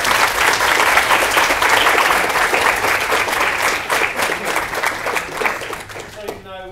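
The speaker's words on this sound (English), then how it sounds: "A round of applause." Audience applause at the close of a talk on advice for aspiring VFX artists, dense sustained clapping from a full room that tapers slightly toward the end.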